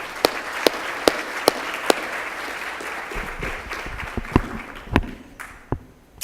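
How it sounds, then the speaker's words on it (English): An audience claps, with a few sharp isolated claps standing out at first, then scattered applause that thins out toward the end. "How about a round of applause for these?"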